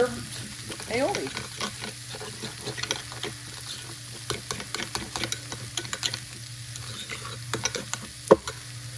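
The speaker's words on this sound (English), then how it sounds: "just give it a good stir" A spoon stirs herb aioli, making irregular soft clicks and scrapes against the bowl over a steady background hiss, with one sharper knock near the end.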